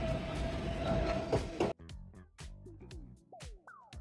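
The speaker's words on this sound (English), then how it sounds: "I'm here at Journal Square subway station." A subway train at Journal Square station gives a loud, steady rumbling roar for a little under two seconds, then cuts off abruptly.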